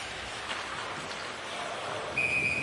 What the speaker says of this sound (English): And another whistle off the draw as Pavlenko is able to secure that one.